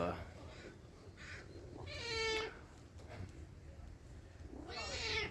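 A cat meows twice, sharp and fairly close, with quieter mewing in between, while a person talks indoors.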